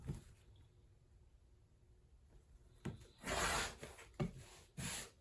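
Pulled, frayed fabric edges trimmed while sewing reusable napkins, a quiet pause and then a few close rough swishing cuts and rubs, brief bursts with short gaps.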